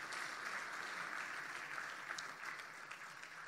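A congregation at a church service applauds, a steady, even wash of many hands clapping together, fairly soft and distant, holding without a break.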